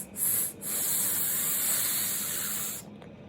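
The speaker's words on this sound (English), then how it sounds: "Breathe in deeply, like I'm pregnant" A long, steady, breathy hiss of air drawn in for about two seconds after a short puff, close and fairly quiet.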